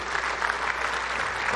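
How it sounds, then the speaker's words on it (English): Audience applause at an air and space conference as a speaker is welcomed to the stage, a short, steady burst of clapping from a large room. "Please welcome to the stage General John Hesterman"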